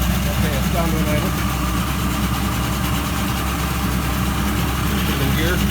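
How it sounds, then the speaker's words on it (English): A 1980 50hp two-stroke, four-cylinder, twin-carburetor long-shaft outboard motor idles in a test tank, a loud steady low burble running unbroken throughout, with someone talking over it. "I'm going to bring the idle down somehow. Okay, it's down to an idle."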